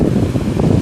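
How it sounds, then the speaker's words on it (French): Wind rises at sea as a thunderstorm begins, a steady, loud rushing roar with buffeting against the microphone and no voices. "Ça commence en plus le vent."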